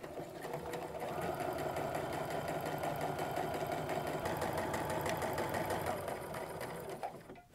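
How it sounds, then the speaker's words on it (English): A sewing machine stitches a short seam across apron fabric, its steady rapid mechanical whir running close and continuous for about seven seconds before stopping. "I'm just going to go ahead and give these a little stitch across."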